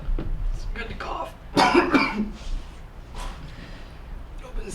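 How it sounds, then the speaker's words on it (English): A person coughs several times in quick, rough bursts, close to the microphone, while someone speaks nearby. "It's good to cough."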